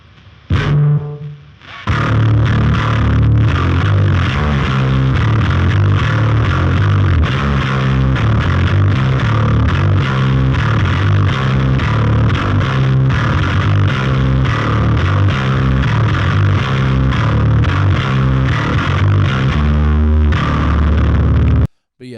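A bass guitar, a Troy Sanders Jaguar, is played through a BOSS HM-2W distortion pedal with reverb, giving a thick, buzzing, chainsaw-like tone in steady chugging riffs that continue loudly for about twenty seconds before cutting off.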